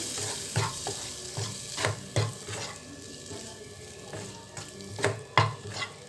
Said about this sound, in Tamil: நல்லா இப்படி கலந்து கொடுத்துட்டு